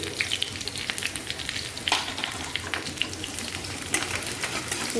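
Panch phoron whole spices crackle and sizzle as they hit hot oil in a home kitchen pan, a steady dense frying hiss with sharp pops throughout, close and fairly loud.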